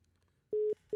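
A telephone busy signal after a caller hangs up, two loud steady beeps with a short gap between, close and clear over near silence.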